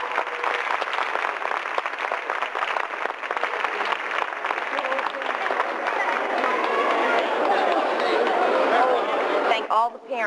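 An audience at a children's Snow White stage show breaks into sustained applause and cheering, a loud, dense clatter of many hands mixed with crowd chatter and voices, fading slightly near the end.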